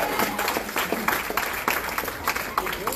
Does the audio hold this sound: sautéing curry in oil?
no